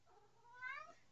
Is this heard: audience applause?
no